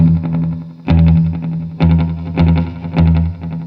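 A Klempt Echolette E51 tape echo running heads 1 and 3 with head 2 down, loud distorted guitar-like stabs that trail into repeating echoes, each hit smearing into the next over a few seconds.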